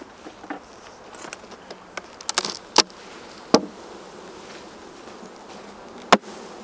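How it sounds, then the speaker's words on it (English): A steady, soft buzz of honey bees in Alaska fills the air, with a few sharp taps and knocks cutting through at irregular moments as bees are tapped off a hive frame. "I'm tapping off the bees just to make sure that if the queen's on there"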